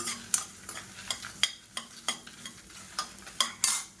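Dried red chillies and coriander seeds frying in hot oil, a continuous soft sizzle broken by regular scraping strokes of a spoon across the pan, close and fairly quiet.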